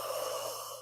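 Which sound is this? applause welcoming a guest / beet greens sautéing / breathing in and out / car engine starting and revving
breathing in and out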